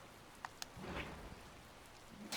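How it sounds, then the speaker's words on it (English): Rain falls steadily in the video game Tales of Vesperia, a soft continuous patter with a couple of brief ticks and no voices over it. "It's rainy."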